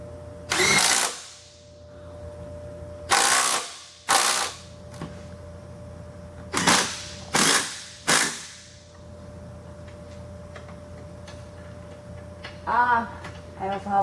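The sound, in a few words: ratchet tightening shock bolts on Jeep lift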